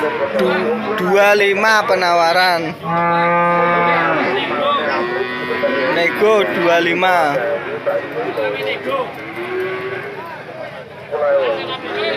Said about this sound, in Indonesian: Ini ada sapi pegon lagi.